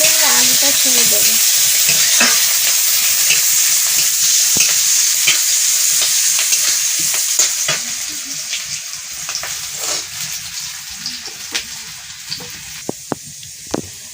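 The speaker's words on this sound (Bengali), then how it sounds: "এবার পেস্টটা লাল করে ভেজে নিয়েছি" Spice paste and onion fry in a pan with a loud, dense sizzle that fades partway through, leaving quieter crackles and a few sharp clicks of a utensil near the end, with no talking.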